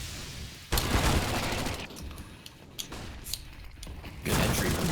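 MP7 submachine gun fire in a Counter-Strike match, with sharp shot bursts, a dense sustained volley and clicking mechanical game sounds between them.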